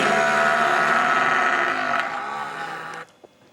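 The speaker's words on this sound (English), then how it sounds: "It is actually a striped hyena" A striped hyena gives a long, wavering, bleat-like call with a strained tonal quality that fades and then cuts off, followed by a short faint sound before quiet.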